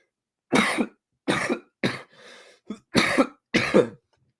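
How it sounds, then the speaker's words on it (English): A person coughs six times in a row, harsh and close, each cough separated by a short pause. "No more coughing."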